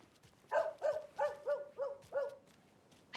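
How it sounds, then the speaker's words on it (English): A dog in the video game Alan Wake 2 barks six times in a steady series, each bark moderately loud and slightly distant, with no talking over it. "I hear a dog. Where is the dog?"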